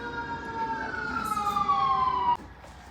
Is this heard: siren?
yes